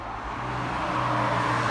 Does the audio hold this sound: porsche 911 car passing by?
yes